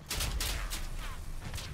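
An autocannon fires in the vehicle combat game Crossout, producing several heavy, rapid bursts of gunfire, fairly loud and close, with no talking.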